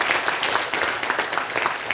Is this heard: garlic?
no